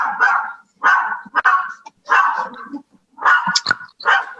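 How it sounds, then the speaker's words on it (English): A dog barks in repeated bursts of about half a second each, loud and close, with a few quicker yips toward the end, heard during an online municipal arts commission meeting. "I'm really sorry about my dog."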